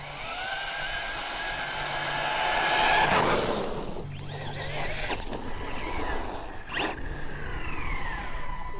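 A Traxxas Jato RC car on a 4S battery drives hard, its electric motor whining and climbing to a loud peak before dropping away, with tyre squeals and a second, shorter burst later on. No one speaks.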